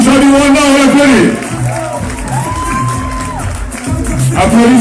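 Crowd cheering and shouting for Rwandan cyclist Boris Mugisha as he receives a lion trophy for most combative rider at a Tour award ceremony, loud and close, with whoops over a bright announcer-style voice.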